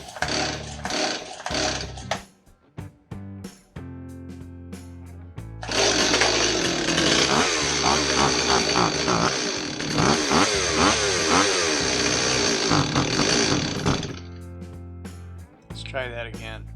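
A Stihl 026 chainsaw with a poorly adjusted carburetor revs up, bogs and stutters, a loud raspy two-stroke engine roaring for several seconds with uneven surges, framed by shorter bursts and sputters; a voice is heard between runs.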